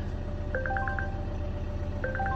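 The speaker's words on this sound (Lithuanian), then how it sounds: "Mašina signalizuoja, kad kapotas atidarytas yra." The hood-open warning of a Volvo V90 rings as two bursts of rapid, bright electronic chime tones over the steady low idle of its 2-litre diesel engine.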